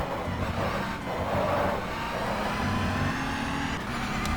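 Audi R18 Ultra race car in the GTR2 racing game, its engine a steady, loud droning hum that holds through the lap without pause, with small swells as it works through the corners.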